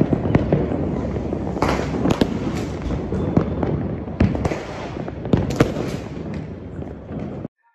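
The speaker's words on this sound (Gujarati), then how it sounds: "અમારા ભોગભાઈ ને તુષિકા ભાઈ ને ફટાકડા ફોડે" Diwali firecrackers and fireworks burst at close range in Rajkot, a dense, loud crackle with sharp popping bangs that runs almost without a break for about seven seconds before stopping abruptly.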